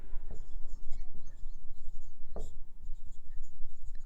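Chalk writing on a board during a Hindi-language physics lesson: close, scratchy strokes and taps in quick irregular bursts over a quiet room.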